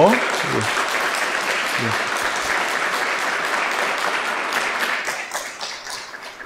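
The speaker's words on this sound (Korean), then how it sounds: "다 같이 한번 박수, 축하 박수 한번" A congregation at a pastor's farewell and installation thanksgiving service gives congratulatory applause, sustained dense clapping that starts with a brief voice and gradually fades toward the end.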